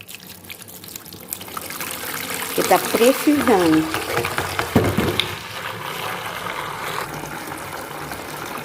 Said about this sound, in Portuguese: Agora eu vou colocar uma água de sabão aqui no balde para lavar o banheiro.